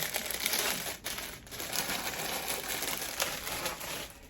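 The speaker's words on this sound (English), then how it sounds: "I'm going to line the base of the box with tissue paper, shredded tissue paper." Close, continuous crinkling and rustling of shredded tissue paper being handled to line the base of a box, with no talking.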